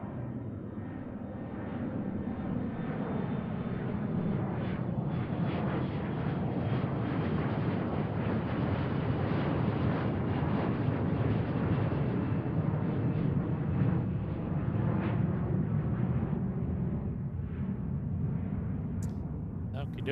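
A jet airliner takes off from runway 34 right at Seattle-Tacoma airport, a loud, sustained broadband engine roar that holds steady and close for the whole stretch with no talk over it.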